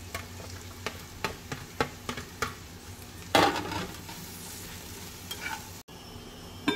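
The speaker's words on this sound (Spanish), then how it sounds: "Esta la vamos a dorar un poquito y luego agregamos la salsa." Sausage, beef and onion browning in a frying pan, a quiet steady sizzle broken by repeated sharp utensil scrapes and taps, with one louder burst of stirring midway.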